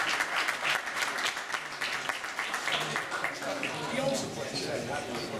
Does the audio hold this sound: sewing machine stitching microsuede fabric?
no